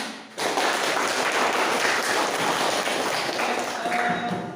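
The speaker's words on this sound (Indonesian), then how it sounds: "mari kita berikan aplaus untuk kelompok 1" Classroom applause for a student group: a burst of dense clapping that starts suddenly and holds steady for several seconds at moderate loudness, thinning slightly at the end.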